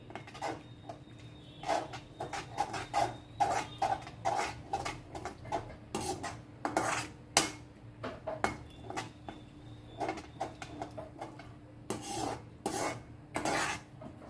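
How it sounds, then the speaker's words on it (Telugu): Spatula scraping and stirring chicken majestic in a metal pan over a low flame, with irregular rasping strokes and clinks repeating steadily throughout, fairly quiet and without talk. "ఇట్లా కలుపుతూనే ఉండాలి చిన్న ఫ్లేమ్లోనే కలపాలి ఫ్లేమ్ చిన్నగా పెట్టుకొని మంచిగా కలుపుకోవాలి"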